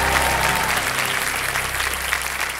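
A studio audience at a Kaun Banega Crorepati game show breaks into steady, dense applause, loud and close, continuing without pause.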